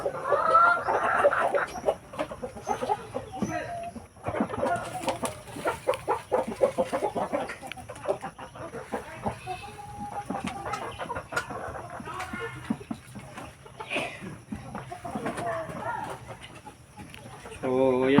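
Backyard free-range chickens at a rural breeder pen cluck and chatter continuously, close and fairly loud, while someone talks over them throughout.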